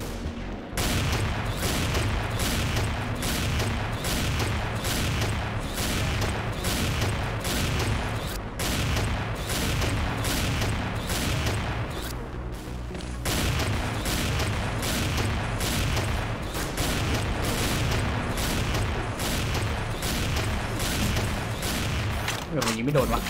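A penetrating sniper gun firing in the XSHOT video game, repeated sharp gunshots in a fairly regular rhythm across a busy game soundscape, with brief pauses between bursts.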